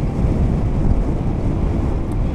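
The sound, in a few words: wind blowing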